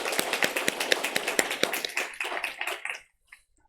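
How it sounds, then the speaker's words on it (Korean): A church congregation at Sunday worship claps in encouragement, crisp, fairly quick hand claps that start strong, thin out and stop after about three seconds, leaving near silence. "우리 힘내시라고 우리 박수로 한번 격려하겠습니다"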